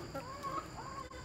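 Chickens cluck softly and continuously in a farmyard, several short murmuring calls overlapping at a moderate distance, with no talk over them.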